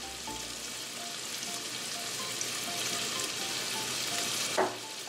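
Vegetables sizzle steadily in melted butter with salt, pepper and thyme in a pan, a close, continuous frying hiss with faint scraping near the end, no talk.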